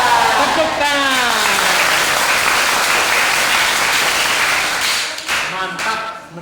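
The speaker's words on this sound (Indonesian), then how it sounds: "Tepuk tangan." An audience at a morning classroom guidance session breaks into loud, dense applause that holds steady for several seconds and then thins out, with voices mixed in.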